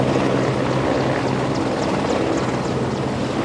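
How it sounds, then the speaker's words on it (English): A helicopter's loud, steady rotor roar and engine whine fill the air continuously, close by and unbroken as it comes down. "How long does a helicopter take to land then?"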